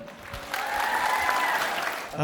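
Concert audience in a full hall applauds a young female singer, a brief swell of dense clapping that tails off as a voice begins speaking.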